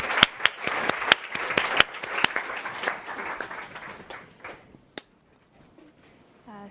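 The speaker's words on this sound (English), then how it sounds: "So a big round of applause for the team from Innocent." Applause from a conference audience at a Happy Workplaces speaking event, brisk clapping with sharp individual claps that thins out and stops about five seconds in, leaving near silence with a faint voice.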